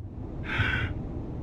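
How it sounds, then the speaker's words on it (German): A game hero breathes heavily inside a protective suit helmet in a horror lab, a single muffled, hissing breath against a low steady hum. "Man hört den schweren Atmen unseres Helden."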